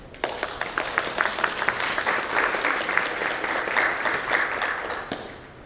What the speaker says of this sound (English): A big round of applause to Ms. Arietta.